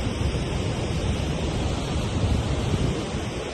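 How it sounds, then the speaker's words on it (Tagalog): Strong outdoor wind buffets the microphone in a steady, dense roar with no let-up across the whole stretch. "Hangin dito guys. So, presko ang hangin."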